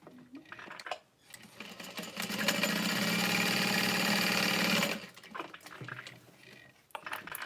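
A sewing machine runs steadily for a few seconds, stitching leather pieces for a custom Emily bag, loud and close, with quieter handling noises before and after.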